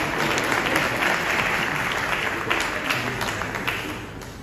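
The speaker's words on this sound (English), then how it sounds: "Please clap for us." Conference audience at the Eve Woman's Conference in Accra applauds in a steady, dense wash of clapping that holds throughout and tapers slightly near the end.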